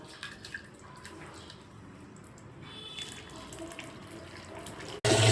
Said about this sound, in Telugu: ఇలా వేడి చేసిన నీళ్ళు ఇందులో పోసుకోవాలి.